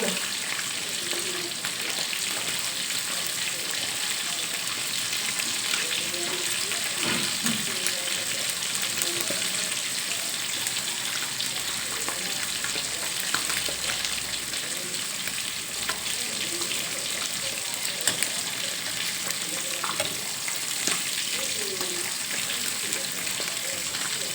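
Steady, dense crackling sizzle of mackerel frying in hot oil, continuous throughout with faint background voices now and then.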